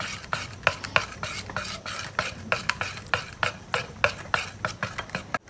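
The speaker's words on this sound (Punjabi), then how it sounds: "ਇਹਨੂੰ ਆਪਾਂ ਚੰਗੀ ਤਰ੍ਹਾਂ ਕਲਰ ਨੂੰ ਮਿਕਸ ਕਰ ਲਾਂਗੇ" A spoon whisks a pinch of yellow food colour into boondi batter in a bowl, producing quick, repeated scraping clicks against the bowl in a steady, brisk rhythm, close and fairly loud, with no voices.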